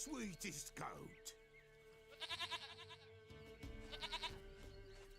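A goat in The Witcher 3: Wild Hunt gives two rapid, pulsing bleats, faint and somewhat distant, amid quiet game sound and a voice.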